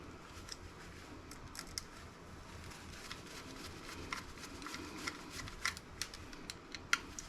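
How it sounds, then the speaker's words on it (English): A small screwdriver working at tiny Torx screws on an old Dell laptop, producing faint, close, irregular metallic ticks and clicks over a quiet hiss, growing a little busier toward the end, with no voices. "These are not wanting to come off with my small screwdriver"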